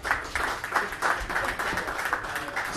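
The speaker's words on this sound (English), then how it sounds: "Pause for applause." Clapping from a crowd at an awards night, a scattered round of applause that carries on steadily at a moderate distance with no talking.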